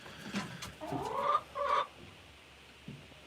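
Golden laced Wyandotte hens with rose combs cluck in a few short, nearby bursts, moderately loud over a quiet background.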